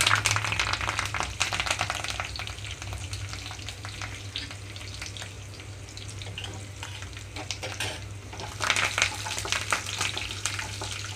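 Dried red chillies, crushed garlic and curry leaves crackle and sizzle steadily in hot oil for a ridge gourd and drumstick curry tempering, a dense close frying hiss with no talk.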